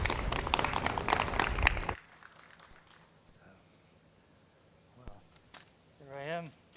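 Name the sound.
audience round of applause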